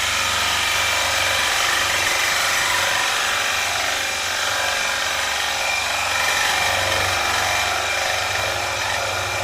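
A gouge cutting wood on a lathe while turning an ogee bowl: a continuous loud hissing, rushing cut over the low hum of the spinning lathe, steady throughout with slight swells.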